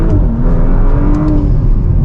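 Tuned Audi S5 Sportback pulling hard through the gears, its engine note droning loud and steady from inside the cabin with a rising whine, no talk over it.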